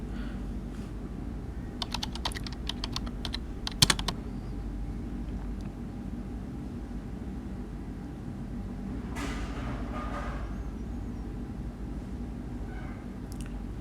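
Quick bursts of typing on a computer keyboard while filling in a tax reporting form, clusters of sharp key clicks near the start and around the four-second mark, then sparser taps over a low steady room hum.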